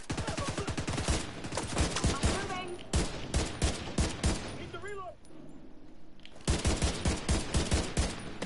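Rapid automatic fire from the player's gun in The Division 2, loud evenly spaced shots in long bursts, broken by a brief lull with a faint electronic chirp before the shooting resumes.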